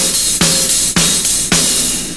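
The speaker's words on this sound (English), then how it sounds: "Like every other hi-hat gets a snare," Loud drum hits land in an even pulse, about four sharp snare-like strikes with a washy cymbal sustaining between them.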